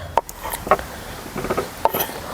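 Small diced salad pieces tossed in a bowl, a few distinct clinks and clatters of a utensil against the bowl with soft rustling between, close and moderately loud.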